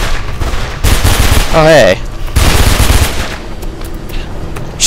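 Enemy gunfire from Mirror's Edge, loud rapid bursts of shots that come and go through the clip, with a player's brief voice over the shooting.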